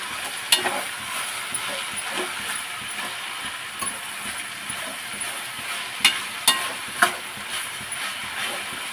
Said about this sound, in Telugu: పసుపు బాగా కలుపుకుందాం ఒకసారి